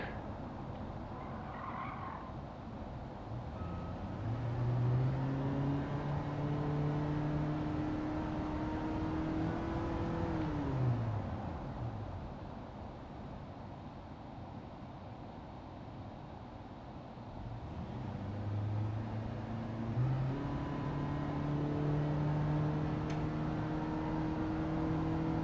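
Toyota Prius driven through traffic in Gran Turismo 7, engine hum steady and up close, with long tire squeals and pitch sweeps as it shifts lanes and brakes, other cars passing, no talk.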